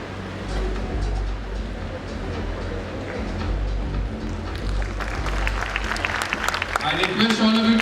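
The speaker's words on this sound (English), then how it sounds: "I request all of you to please give a huge round of applause to the release of Magna 2024" Audience applause at a college event releasing an annual management magazine at the Bhopal School of Social Sciences, a steady wash of clapping from a large crowd that swells louder toward the end.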